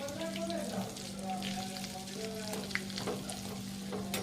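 Farali sheera of rajgira, sabudana and moraiyo flour cooks in ghee as it is stirred. A steady, close sizzle runs throughout with soft stirring scrapes and some background voices.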